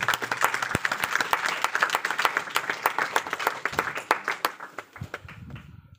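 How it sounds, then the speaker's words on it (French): Wedding guests applaud the couple with a dense, sustained round of clapping that stays lively for several seconds, then tapers off and fades into quieter room noise. "Est-ce qu'on peut acclamer"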